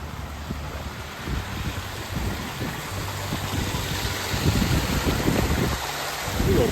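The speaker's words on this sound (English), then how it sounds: "A little babbling brook." A small babbling brook runs beside a footpath near Urquhart Castle on Loch Ness, a steady close wash of flowing water mixed with wind rumble on the microphone and no talk.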